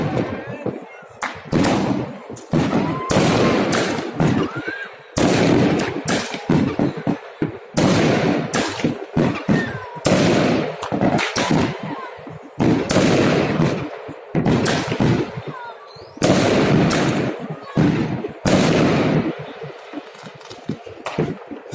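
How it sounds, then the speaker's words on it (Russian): A fireworks salute over Tashkent in 2022 booms in a long series of loud, sharp blasts, each followed by a crackling tail, coming in rapid repeated volleys with crowd voices and cheering underneath. "Семь выстрелов."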